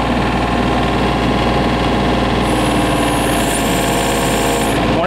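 A motor runs with a steady, dense mechanical hum and buzz that holds level throughout, with a faint high whine entering partway through.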